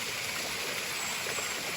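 Strong stream water rushes in a constant, full roar, like a small waterfall, close and steady without pauses or voices.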